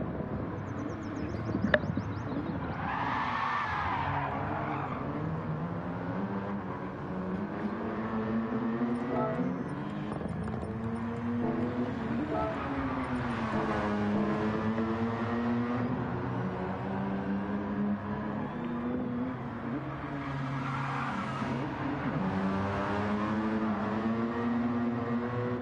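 A Mazda RX-7 race car laps the Fuji circuit during a Street2Track GT300/500 round, its engine droning steadily with rising and falling pitch as it accelerates and brakes through corners, continuous and moderately loud.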